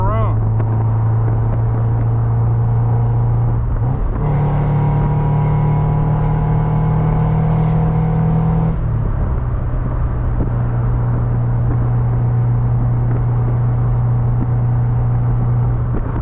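A 2001 Mazda MX-5 Miata NB2 engine droning steadily while driving on back roads; the pitch climbs sharply after a gear change, holds with a harsher edge for a few seconds, then drops back to a lower, even cruise.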